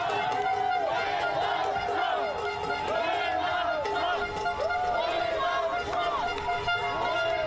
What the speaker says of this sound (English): Listen to the crowd in the background.